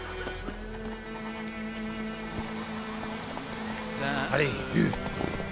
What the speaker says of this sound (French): Il est où mon cheval?